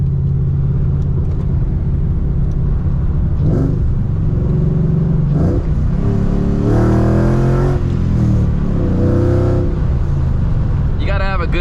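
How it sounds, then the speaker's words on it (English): A 1996–2004 Ford Mustang with a swapped Coyote V8 rumbles at close range, giving several rising revs over its deep exhaust idle while someone talks over it. "Good sounding exhaust, man."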